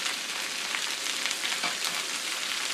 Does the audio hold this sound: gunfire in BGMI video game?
no